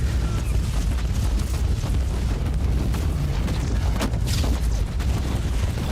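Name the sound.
webway gate exploding in video game Warhammer 40K: Inquisitor - Martyr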